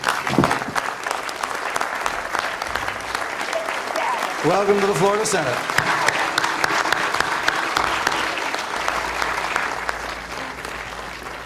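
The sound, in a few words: round of applause in the Florida Senate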